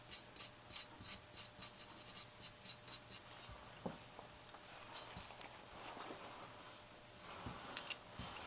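A crayon is rubbed hard back and forth into the engraving of a Spikes Tactical AR Punisher lower receiver, making a steady run of quick, even rasping strokes that loosen into scattered, uneven scrubbing. The strokes are quiet, close and heard with no talk.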